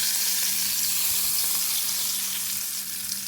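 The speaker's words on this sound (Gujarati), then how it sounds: "આ વઘારને ચટણી ઉપર રેડી દઈશું" Hot spice tempering with turmeric and Kashmiri red chilli is poured over a chutney, giving a steady close-up sizzle that holds for several seconds over a faint low hum.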